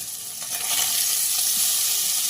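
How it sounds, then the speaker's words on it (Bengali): Paneer fries in mustard oil in a pan, giving a dense, steady sizzle that stays close and loud throughout with no voices. "2 টেবিল স্পুনের মতো সর্ষের তেল দিয়ে নিয়েছিলাম এবং তার মধ্যে পনিরগুলোকে দিয়ে ভাজতে থাকলাম"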